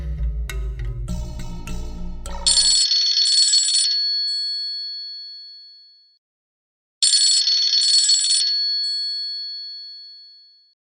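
A telephone rings with a bright, trilling electronic bell in two long bursts separated by a short pause, following a brief burst of tonal phone tones at the start; no talking.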